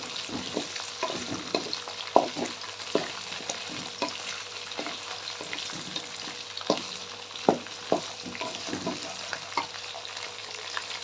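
Okra sizzles steadily in a hot pan while a utensil stirs and scrapes it in repeated irregular clacks and strokes. No voices.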